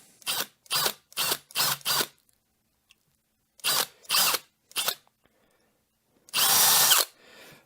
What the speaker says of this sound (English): brad points can grab and all of a sudden you've drilled halfway through whatever you're drilling on